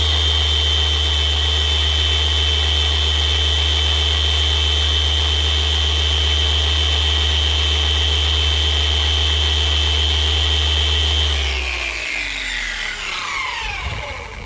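A motorized pad washer spins a wet polishing pad dry with a steady loud whine and hum, then spins down near the end as the tone drops and fades.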